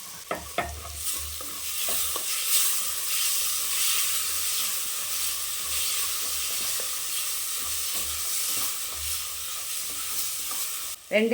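A ground paste of mint, coriander and green chilli frying in oil for mushroom biryani: a continuous bright sizzle runs throughout, broken by occasional spoon clinks and stirring scrapes, with a louder clatter at the very end.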